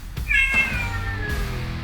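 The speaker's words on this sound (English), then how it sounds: "My cat has something to say too." A house cat lets out a single drawn-out meow, close and clear, with a quiet room around it and no speech.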